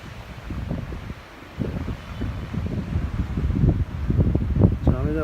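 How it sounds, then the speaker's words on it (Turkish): Gusty wind blows at a dam, buffeting and rumbling in uneven surges that grow stronger toward the end, with roaring wind noise on the microphone. "Rüzgar o biçim."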